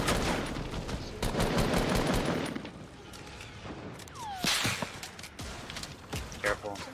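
Gunfire in a shooter video game, scattered bursts of shots and impacts, some sharp and close, others more distant, under the speaker's voice and background game sounds.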